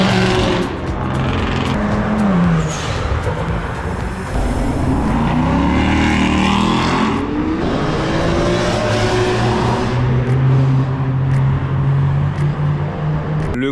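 Cars accelerating past the grandstands at the old Reims-Gueux circuit, engines rising and falling in pitch as they pass at a distance, a continuous stream of revving and passing traffic with no talk.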